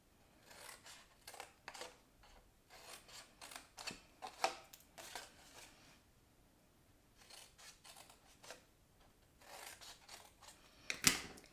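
Scissors snipping a V-shaped notch into paper to miter the edges, a series of quiet, quick crisp cuts in short bursts separated by pauses, close and faint.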